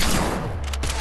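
Gunfire in the video game Fortnite, a dense, loud burst of shots filling the whole second, with sharper cracks toward the end.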